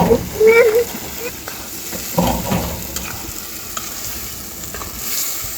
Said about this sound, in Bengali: এখন মাংস আর সিমের বিচিগুলো সুন্দর করে একসাথে কষিয়ে নেবে অনেকক্ষণ সময় ধরে